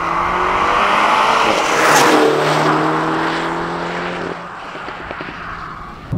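A Mini Clubman John Cooper Works ALL4 running on a moorland road: a loud, steady engine and exhaust drone that eases off, followed by a scattering of crackles and pops from the exhaust.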